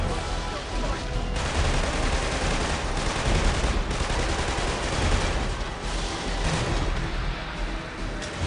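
Gunfire crackles nonstop in the Killzone 2 video game, with dense automatic bursts and booming shots filling the scene from start to finish. A voice talks faintly underneath.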